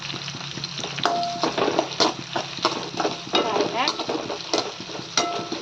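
Curry leaves sautéing in oil for a chicken gravy, a bright crackling sizzle broken by repeated sharp spoon scrapes against the pan, with a voice speaking briefly over the cooking.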